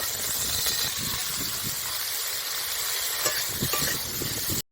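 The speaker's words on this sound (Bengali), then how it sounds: "প্রথমে লবণ হলুদ মাখানো উচ্ছেটা ভেজে নেব" Bitter gourd coated in salt and turmeric fries in a hot wok, a dense, even hiss of sizzling oil with occasional soft knocks of stirring, cutting off abruptly at the end.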